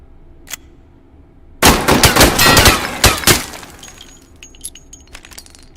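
Gunshots from a Lancaster gun, a sudden loud cluster of sharp cracks and bangs after a quiet start, fading into scattered clinks and faint echoes.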